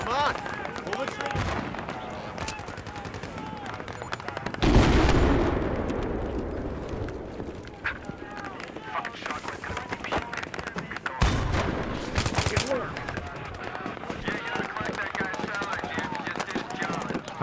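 Close gunfire in a Battlefield video game: repeated sharp shots and bursts with a couple of heavier blasts, near and loud, while a player talks over the action.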